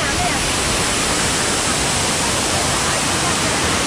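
A constant, dense roar of rushing water from a nearby waterfall, Erawan Waterfall in Kanchanaburi, Thailand, fills the whole clip, steady and loud with no breaks.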